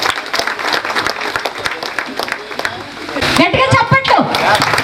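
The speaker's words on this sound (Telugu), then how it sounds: "ఒకసారి ఆయన క్లాప్స్ కొట్టండి." Former students at a school alumni meet clap loudly for their teacher, a crowded, uneven burst of applause with sharp individual claps and voices and crowd noise mixed in toward the end.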